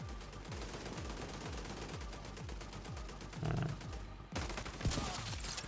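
Turrets firing in The Division 2, a fast continuous rattle of automatic gunfire with a brief break and a couple of heavier impacts, loud and steady with no talk.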